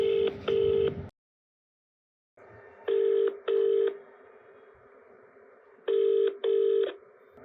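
Paired bursts of DTMF keypad tones repeat at steady intervals, each beep loud and clear over a low background hum after a short silence, as a number is dialled for an outgoing call.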